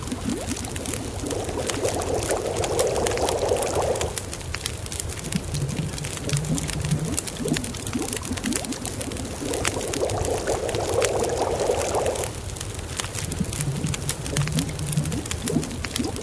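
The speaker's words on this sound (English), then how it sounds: "We'll make all the coffee." Coffee being made in the survival video game The Long Dark, with a pouring and bubbling liquid effect that swells in two repeated passes over a low steady ambient bed, with no talk.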